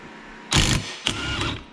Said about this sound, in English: we'll see if this little DeWalt 20 volt will take this off